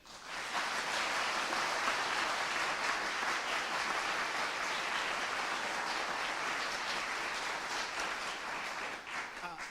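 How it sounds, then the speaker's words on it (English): A sustained, even roar of applause from an audience at a young chamber musicians competition, many hands blending into a dense wash that holds steady for nearly ten seconds, some voices mixed underneath. "So let's hear a round of applause."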